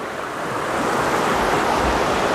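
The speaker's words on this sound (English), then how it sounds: "so that's the Housatonic River over there" The Housatonic River rushes steadily by a trail bridge, a continuous broad wash of flowing water with some wind, heard alone.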